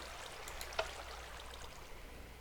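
Flowing water in a Minecraft wheat farm, a faint steady trickling wash with one brief splash-like tick, heard alone without talk.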